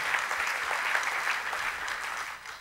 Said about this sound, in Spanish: un aplauso al Señor, iglesia